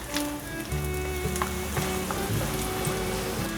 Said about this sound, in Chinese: 另一面比较浅，再翻面让它煎一下